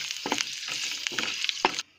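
Curry leaves crackle and sizzle as they drop into hot oil for tempering a banana chutney, a short burst of spitting pops close by that stops abruptly.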